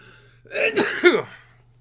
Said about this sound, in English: Forgive my sneezes.